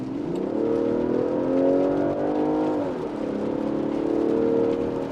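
An SUV's engine revs up under acceleration from inside the cabin, a steady rising drone that climbs in pitch, dips briefly as it shifts gear, then builds again, fairly loud with no talking.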